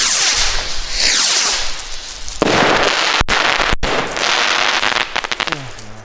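Super Crackers firecrackers going off in a continuous loud barrage of crackling pops and bangs, with dense bursts running throughout and a few sharp louder reports near the middle.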